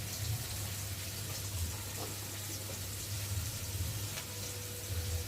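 Chopped tomatoes go into chicken masala frying with onions in a pan, giving a soft, steady sizzling hiss that stays fairly faint and even, with no voices.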